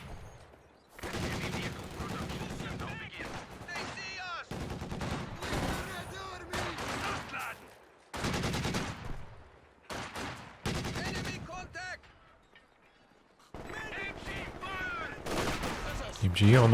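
A Company of Heroes match in which machine guns rattle in bursts of rapid fire, along with rifle shots and battlefield clatter, broken by short lulls, under a caster talking.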